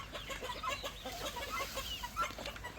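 A flock of chickens clucks together while drinking water after their afternoon feed, a busy overlapping chorus of short clucks, near and steady, with no one talking.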